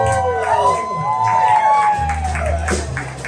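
Audience at a Christmas sing-along show cheers and whoops for a contestant, a steady crowd roar with shouts and a sustained whistle-like tone, continuous and fairly loud over the full stretch.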